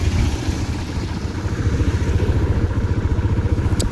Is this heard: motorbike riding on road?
yes